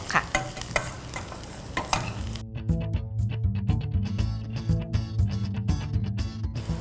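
Shallots and large-cut garlic are stir-fried in a pan: a loud, close sizzle under rhythmic scraping strokes of the utensil, with no one talking.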